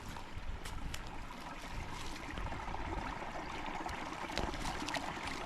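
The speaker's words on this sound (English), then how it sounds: "You can see the water flow and you can hear water everywhere." Water flowing beneath the covered ground of a Pennsylvania forest, a steady, soft broadband trickle and gurgle that holds continuously through the clip without talk.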